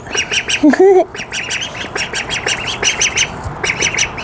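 Baby ducks quack and peep in a rapid, continuous chatter close by, filling the clip with steady high calls and one louder squawk early on, with no talk over them.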